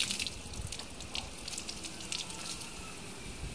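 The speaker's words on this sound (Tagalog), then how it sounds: "Oh, malakas ang tubig." Strong water flow gushing from a tap during a plumbing pressure test, a steady, dense, hissing rush that stays constant throughout, close by and without talk.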